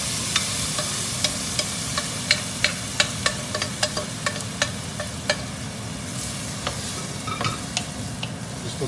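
Cooked chickpeas are stirred into frying masala for Punjabi pindi chhole, a steady sizzle broken by repeated sharp clicks and scrapes of the spoon against the pan, with no talking.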